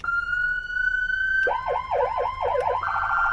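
Whelen Core emergency siren on a 2022 Tahoe duty fire chief vehicle: a steady tone abruptly switches to a rapid, loud, close warbling yelp, then a faster high pulsing pattern near the end.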